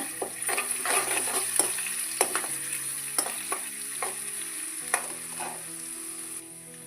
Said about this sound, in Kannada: ಈಗ ಉಳ್ಳಾಗಡ್ಡಿ, ಕರಿಬೇವು ಹಾಕ್ಕೊಳ್ತೇನೆ ನೋಡ್ರಿ.